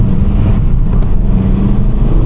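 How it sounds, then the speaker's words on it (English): A Volkswagen Golf GTD diesel hatchback accelerates at full throttle out of a roundabout at night, a loud, close, steady engine drone heard from inside the car without any talking. "I'll give it full throttle out this roundabout."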